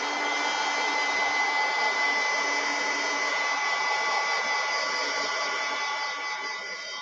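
Hair dryer blowing steadily and loudly at close range to dry a watercolor painting, a continuous whooshing roar that eases slightly toward the end.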